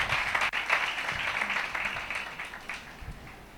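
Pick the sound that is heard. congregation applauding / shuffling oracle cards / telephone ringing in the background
congregation applauding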